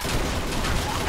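Gunfire in a shooter video game lands a headshot, a dense, loud, noisy burst that fills the short moment without a break.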